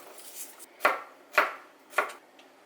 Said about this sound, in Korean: 마늘 3개 굵게 썰어주세요